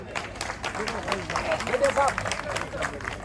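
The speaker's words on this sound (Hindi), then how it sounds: "उनके लिए ताली बजानी चाहिए" An audience at a Gujarat paramilitary association gathering claps for its members, a dense crowd patter of many hands, with voices talking over it throughout.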